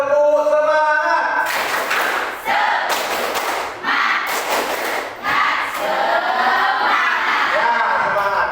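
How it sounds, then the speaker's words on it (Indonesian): A primary school class in Indonesia performs the tepuk semangat clapping cheer, giving loud rhythmic bursts of group clapping and chanting in short, evenly spaced blocks between brief pauses. "Tepuk semangat."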